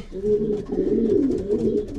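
A racing pigeon coos close by in soft, throaty, warbling phrases that run continuously over about two seconds.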